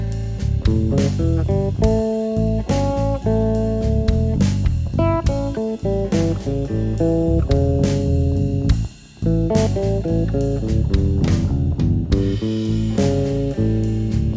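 A bass guitar improvises a plain line using only chord tones over a dominant 7th chord with a full band backing, with steady, repetitive notes and a brief gap near the end.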